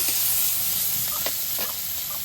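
Onion, green chili and oil fry in a wok with a steady, close sizzle and hiss, broken by a few soft stirring scrapes.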